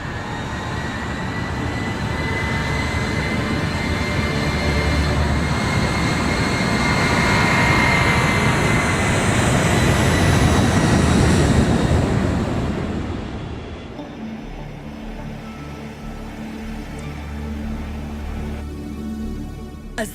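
A giant airliner's jet engines roar in a loud, sustained broadband rush that swells during takeoff and climb, then drops to a steadier, quieter cabin drone.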